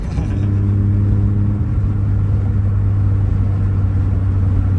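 A Nissan Skyline R32 engine drones loudly from inside the car while driving, a steady deep rumble with a brief shift in tone near the start, then sustained, no talking.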